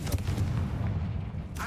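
A Confringo fire-blast spell goes off in Hogwarts Legacy, a deep, rumbling boom that rolls on with a second, sharper burst near the end.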